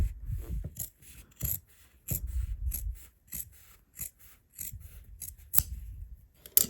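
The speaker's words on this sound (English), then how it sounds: "once I've done that, I'm going to trim a lot of this away" Scissors snip and trim away excess fabric while sewing a vest, a close series of short crisp cuts with brief pauses between, alone with no talking.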